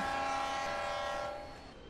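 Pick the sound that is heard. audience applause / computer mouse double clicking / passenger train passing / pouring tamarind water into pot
passenger train passing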